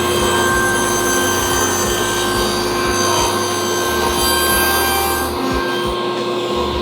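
A saw cuts the lid of a wooden box loose in one continuous, loud, steady stretch of sawing with a constant mechanical drone.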